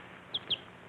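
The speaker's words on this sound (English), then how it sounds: "A chicken?" A chicken gives two quick, faint clucks in close succession against a quiet background, with no talking.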